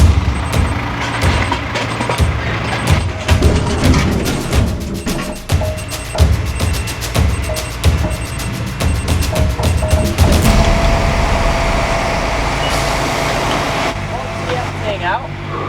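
A grab lorry truck pulls in and reverses, its heavy engine rumbling loud and close with rhythmic reversing beeps and a hiss of air brakes, while people talk over it.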